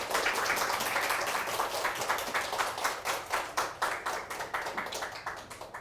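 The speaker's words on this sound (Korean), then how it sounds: "이럴 땐 박수가 나와야 되는데." A group claps in a steady, rhythmic beat, the sharp claps continuing evenly throughout with no talking.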